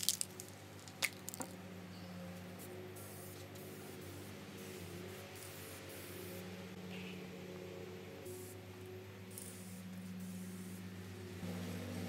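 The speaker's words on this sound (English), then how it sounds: "I'll probably spray a little bit and then run off camera to get some fresh air" A spray can lays polyurethane onto a picture frame as a steady, faint hiss that runs the whole time under a low background hum, with no talking.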